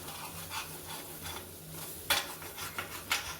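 Three beaten eggs poured into a hot pan over sautéed ingredients for egg rice, giving a soft sizzle with scraping stirs and a few sharper spoon knocks against the pan, close and without talk.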